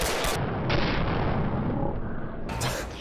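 A grenade explodes in the video game Red Orchestra: Ostfront 41-45 as a heavy, rumbling blast that swells and rolls on for a couple of seconds amid battlefield noise.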